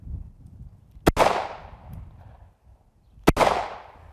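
Two loud, sharp gunshots from a firearm with a 17-round magazine crack about two seconds apart, each followed by a long, rolling echo that dies away.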